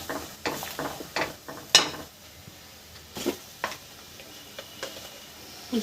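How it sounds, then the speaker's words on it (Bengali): Radhuni, panch phoron and fennel seeds frying in oil in a pan for a Bengali dudh shukto, with a soft sizzle under irregular clinks and scrapes of a spoon stirring against metal. "ফোড়নে রাঁধুনি পাঁচফোড়ন আর মৌরি দিয়েছি এই যে মশলাটা খসে নিচ্ছি"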